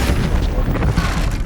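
A Depulso spell cast in Hogwarts Legacy lands as a dense, sustained magical blast with a heavy booming low end rumbling steadily for about a second and a half, loud and close with no talk.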